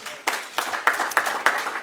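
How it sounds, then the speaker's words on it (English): Audience at a news conference breaking into a short burst of applause, a cluster of distinct claps with sharp repeated peaks, moderately loud and close, with no talking over it. "That deserves a round of applause."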